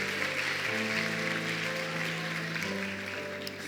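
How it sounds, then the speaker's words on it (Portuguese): Congregational applause in a church service, clapping spread across the room and held steady under sustained organ or keyboard chords, fading slightly toward the end. "Você pode aplaudir a Jesus"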